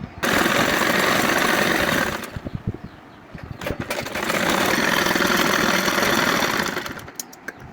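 A sewing machine hemming folded niqab fabric runs loud and steady in two long stretches, with a brief stop and some clicks between them before the motor starts up again.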